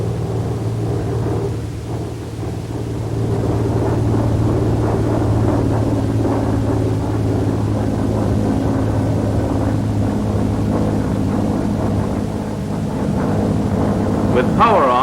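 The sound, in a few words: F4U Corsair aircraft flying with wheels and flaps down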